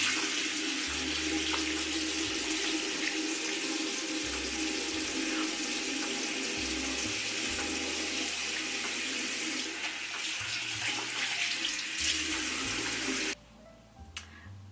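A bathroom tap runs steadily while someone washes their face during an evening skincare routine, a close continuous splashing hiss that cuts off abruptly near the end, leaving quiet room tone.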